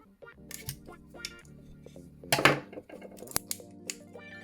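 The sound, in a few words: cutting open phone box packaging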